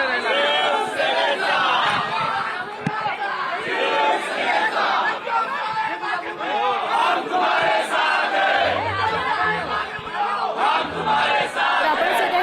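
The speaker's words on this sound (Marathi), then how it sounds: "मातोश्री बाहेर शिवसैनिक आणि युवासेना पदाधिकाऱ्यांचा हा जल्लोष सध्या सुरू असल्याचं पाहायला मिळत आहे" Shiv Sainiks and Yuva Sena members celebrating outside Matoshree after a Senate election win, a loud dense crowd of shouting, chanting and cheering voices that keeps going without a break.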